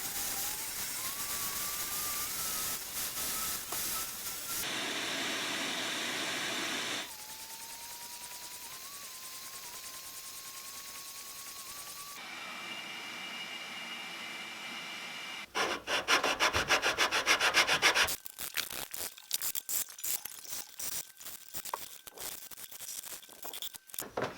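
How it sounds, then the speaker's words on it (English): A disc sander works the wooden headstock of a cigar box guitar, a continuous whirring hum broken by changes in pitch as the wood is pressed on, getting louder and more gritty toward the end. "I'm going to try to clean that up on the disc sander a little bit"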